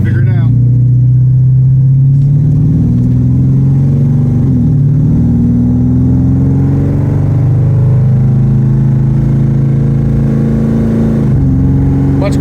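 A car cruising with its exhaust drone gone, a smooth steady engine hum heard from inside the cabin, loud and continuous with talk over it.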